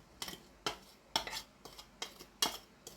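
A utensil scrapes and clinks against a bowl while lemon juice is mixed into a gluten-free potato and chili fritter batter; the strokes are steady and rhythmic, about every half second, and quiet.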